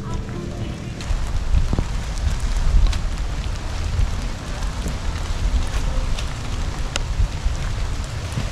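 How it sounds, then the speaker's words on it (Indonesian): Rain comes down on a mountain hiking trail on Gunung Andong, a dense steady hiss with scattered drop hits and wind buffeting the microphone, while voices talk over it. "Kok kayaknya hujannya jadi tambah deras."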